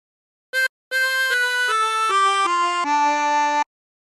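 A harmonica plays a short phrase of a song: one brief note, then a string of clear, sustained descending tones, solo and close.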